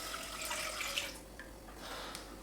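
Coconut water pours into a pan over low heat, a steady soft trickling splash that eases off partway through and then resumes.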